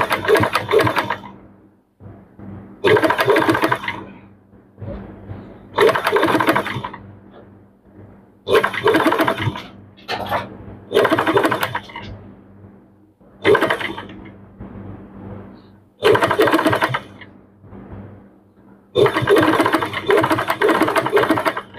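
A sewing machine stitches a neck design on a dress in repeated bursts of fast, rattling mechanical whir, each run lasting one to two seconds, separated by short pauses as the fabric is guided, loud and close.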